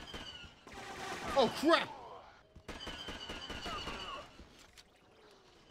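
Blaster fire in the Star Wars Battlefront Classic Collection Clone Wars campaign, two clusters of rapid shots separated by a brief lull, mid-distance and moderately loud, with a voice exclaiming over the first burst.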